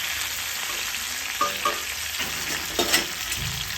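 Fried cauliflower pieces lifted out of hot oil, a loud steady sizzle and bubbling with clinks and scrapes of a utensil at intervals, no voices present.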